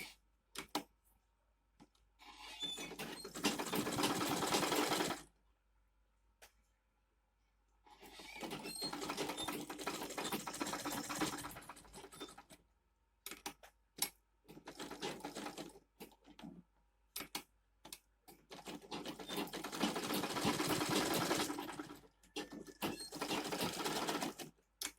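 Sewing machine stitching a pocket onto the body of a mini bag, running in several steady bursts of a few seconds each with quiet pauses between, close and fairly soft, with no voices.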